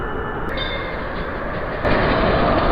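Train rumbling at a station in a Bengali cartoon, a dense, loud, continuous roar of rail noise that swells slightly near the end, with no voices.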